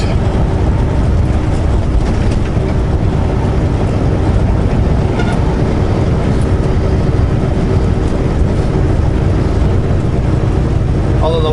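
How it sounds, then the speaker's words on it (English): Constant loud wind buffeting and rushing over the microphone beside the Little Salmon River in Idaho, a dense roar with no pauses throughout. "It's pretty windy and cloudy, and a lot cooler"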